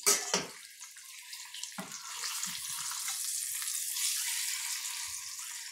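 Eggs frying in a stainless steel pan for egg curry give a steady, close hiss and crackle, with a few soft clunks of turning or scraping near the start.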